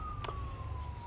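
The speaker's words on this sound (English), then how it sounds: "I hear a police siren in the background." A faint police siren wails thinly in the distance over a low steady background hum, with a brief soft knock near the start.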